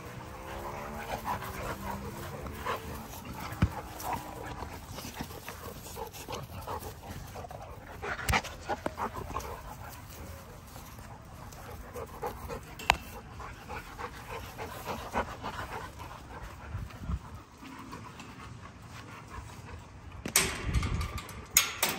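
Young dogs being raised in a home kennel pant, whimper and yip close by. The light, uneven activity runs throughout, with occasional sharper yelps and a burst of louder movement near the end.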